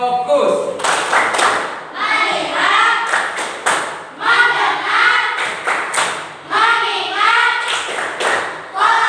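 A group of children does a rhythmic focus-clapping chant, with clap patterns in repeated bursts between chanted words, loud and close throughout.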